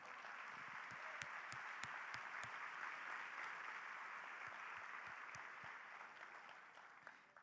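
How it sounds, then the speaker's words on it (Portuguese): A church congregation applauding during a sermon, a steady wash of many hands clapping heard from a distance in a reverberant hall, holding level for several seconds before slowly fading, with occasional louder individual claps and low thumps. "Aplauda o nome dEle."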